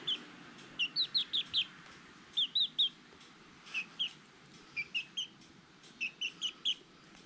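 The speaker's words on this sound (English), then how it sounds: "He does all his little chirps." A pet bird gives a string of short, bright chirps in quick clusters of two to five, spaced across the clip, fairly close but soft over a quiet room hiss.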